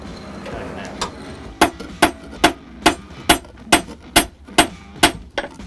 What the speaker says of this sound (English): I use the cross peen part of the hammer because that helps give an even spread